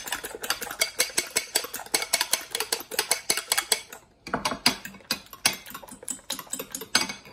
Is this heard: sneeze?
no